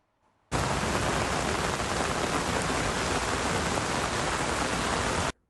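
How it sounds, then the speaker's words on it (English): Heavy rain pours in a sudden, dense downpour, a loud constant hiss of drops hammering surfaces that starts abruptly and cuts off just as sharply after about five seconds. "the minister was caught in a downpour"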